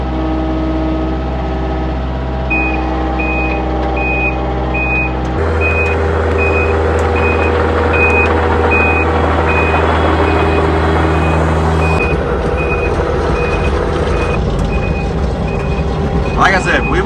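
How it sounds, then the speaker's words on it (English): A Kato excavator's alarm beeps steadily in a rapid, regular series over the loud rumble of its diesel engine, with the machine's idle and working noise filling the background throughout. "the backup alarm is also a forward alarm"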